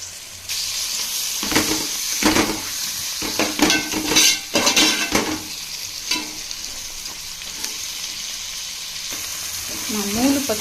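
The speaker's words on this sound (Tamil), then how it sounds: "இப்போ பாருங்கள், மசாலா நல்லா பொரிஞ்சு வந்துருக்குது." Biryani masala with mint and coriander frying in a pot for beef biryani, a loud sizzle punctuated by clattering stirring strokes of a spoon against the metal, then settling to a steadier hiss.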